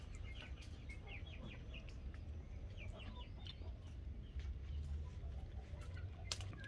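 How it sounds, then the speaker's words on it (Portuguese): Adult backyard chickens and a rooster cluck in a busy chorus, steady and moderately near, with repeated short calls over a low background rumble and no talk. "Aqui é minhas galinhas adultas. Tá aqui o meu galo aqui, ó."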